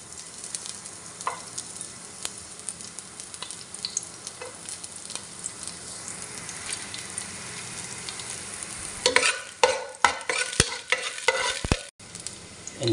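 Chopped onions frying in hot oil in a pot for bacon fried rice give a steady low sizzle, broken near the end by louder clattering stirs and scrapes of a utensil.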